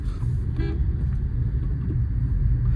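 A car moving through night city traffic gives a steady low rumble, with a brief horn-like tone near the start and no voices.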